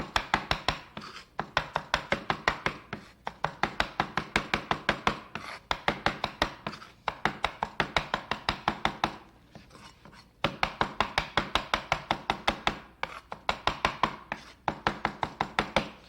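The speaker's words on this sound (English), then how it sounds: "Hold the knife with your 2 hands like that and just chop back and forth." A kitchen knife held in both hands rocks back and forth chopping orange peel with sugar for crêpes Suzette, a rapid run of crisp, close tapping strokes on a board in bursts with short pauses.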